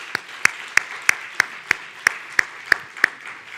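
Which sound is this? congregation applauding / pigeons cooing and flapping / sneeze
congregation applauding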